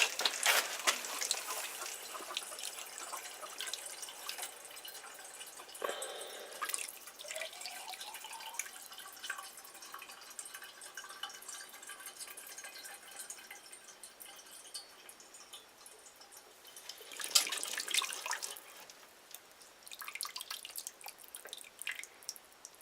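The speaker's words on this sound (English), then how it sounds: "I'm gonna drain the tank here a little bit on the top anyway." Water draining from the top of a tank with no pressure left, a steady soft trickling and spattering flow that swells in louder bursts around the middle and end, close and continuous, with no talk.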